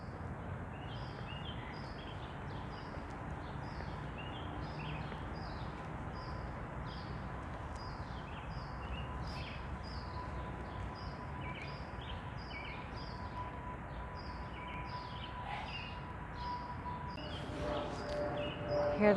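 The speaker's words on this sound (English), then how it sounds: "Hear the birds and the airplanes." Birds chirping and singing in a city park in Harlem near Fort Tryon, faint repeated tweets over a steady distant rumble of airplanes and urban hum, quiet throughout with no talking.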